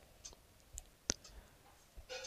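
A single crisp computer mouse click stands out over a quiet room hiss, with a few softer ticks scattered around it.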